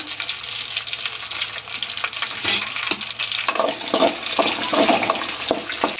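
Curry leaves and green chilies crackling and frying in hot oil, a close sizzle with bursts of popping and stirring, no voices.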